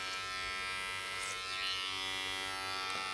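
An electric detailer trimmer buzzes steadily while lining up the edges of a short back and sides haircut, a close, continuous, fairly quiet hum with slight shifts as it moves.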